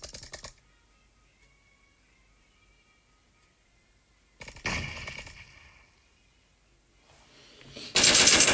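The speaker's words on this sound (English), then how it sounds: "Frankie is being fired upon by Snow" Gunfire in the battle-royale game PUBG during a competitive scrim match, arriving as three loud, rapid bursts at the start, the middle and the end, with quiet gaps between them.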